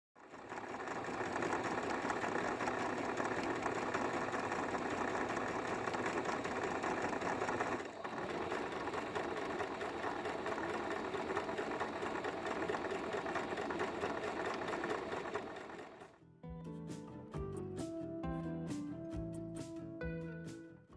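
A sewing machine runs a long, steady stitch along the edge of a fabric tote bag strap, close and whirring without a break. It stops near the end and gives way to a few clicks and light handling sounds.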